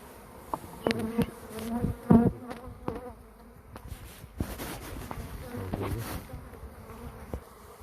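Aggressive honeybees buzzing close by in irregular bursts at a hive, with scattered knocks and rustles around them.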